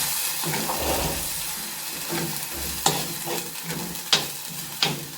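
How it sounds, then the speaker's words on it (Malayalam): Bitter gourd sizzles in a hot pan while a utensil stirs and scrapes, with a few sharp clinks of metal against the pan at irregular intervals. "പാവയ്ക്ക ഇട്ടൊന്ന് മിക്സ് ചെയ്യുക"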